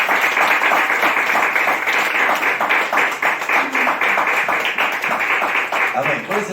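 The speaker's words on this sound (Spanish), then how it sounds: "Den un aplauso fuerte al Señor" A church congregation claps loudly and rhythmically in a steady burst of applause, close and dense, with some voices mixed in.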